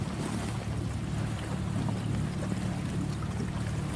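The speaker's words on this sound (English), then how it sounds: "There's been several boats passing through here" Boats motor through Hurricane Harvey floodwaters near Spring, Texas, along I-45, as a steady low engine rumble with wind and water wash, continuous and moderately close throughout.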